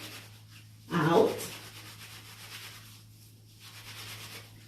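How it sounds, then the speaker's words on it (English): A section of locs is rubbed between the hands during washing, giving one brief close scrubbing burst followed by faint soft rubbing under a low steady hum. "I usually section it and just rub it like that to get the length"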